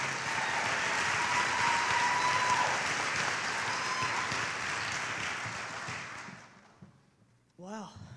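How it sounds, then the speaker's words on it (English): An audience claps steadily at an awards show for a middle school winner, a dense applause that fades over several seconds, followed by a brief spoken voice at the end. "Please give a round of applause to the middle school It Starts With Me Award winner"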